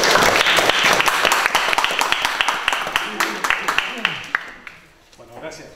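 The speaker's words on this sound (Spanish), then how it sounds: "¡Fuerte el aplauso!" Audience applause in a full lecture hall greeting a speaker, dense clapping that starts loud, fades after about four seconds and trails off into quieter room sound with a voice beginning.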